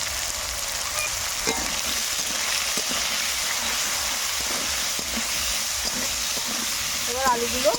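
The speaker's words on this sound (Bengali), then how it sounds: "তেল গরম হয়ে গেছে এবার কেটে রাখা আলু দিয়ে দেবো" Cut potatoes fry in hot oil with a steady hissing sizzle, broken by occasional clicks and scrapes of stirring, close up, with brief voice sounds near the end.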